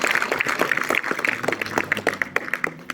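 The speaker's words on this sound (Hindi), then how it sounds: "big round of applause to each and everybody" A crowd at an outdoor Republic Day event claps, the scattered hand claps close and irregular, thinning toward the end, with some voices mixed in.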